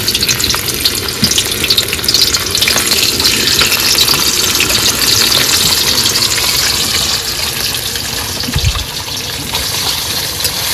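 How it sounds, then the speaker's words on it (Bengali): Salted, turmeric-rubbed fish fries in hot oil with a loud, constant sizzle and bubbling. A soft clunk comes near the end, and no one speaks over it. "তেল গরম হয়ে গেছে মাছ মাছ ভেজে নেবো"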